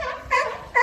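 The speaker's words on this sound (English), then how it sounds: "they have a unique barking sound, and that means they want to be fed" Sea lions at SeaWorld San Antonio barking at feeding time, three short hoarse barks in quick succession, close and fairly loud.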